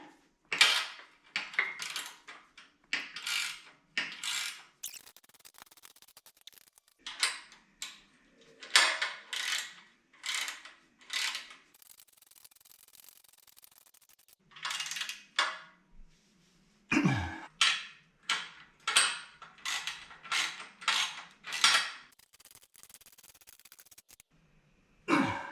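Ratchet tightening bolts on a winery lift, bursts of rapid metallic clicking repeated in short strokes with pauses between, close and fairly quiet.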